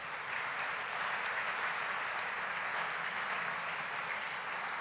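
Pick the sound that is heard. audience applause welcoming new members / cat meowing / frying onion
audience applause welcoming new members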